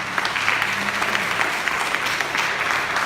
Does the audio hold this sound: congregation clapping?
yes